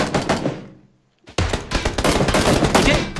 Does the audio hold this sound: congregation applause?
no